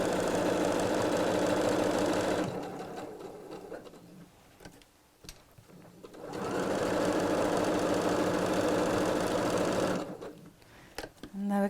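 A sewing machine stitching around a box on a three-pocket bag runs in two steady, buzzing bursts, with quiet pauses and small handling clicks between them.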